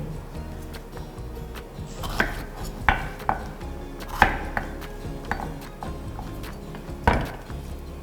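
A kitchen knife slicing a smooth-skinned bell pepper from the inside on a cutting board during a cooking class, a few sharp taps and soft cuts spaced irregularly over quiet room noise.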